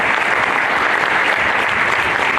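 A crowd at a high school basketball championship game gives a steady round of applause for the referees, a dense, even clapping that holds throughout at moderate volume.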